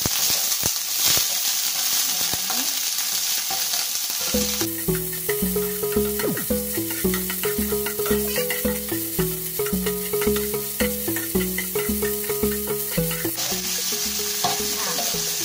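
Loud, continuous sizzling of oysters frying in hot oil for an oyster omelette, with scraping and stirring sounds layered on top, no talking.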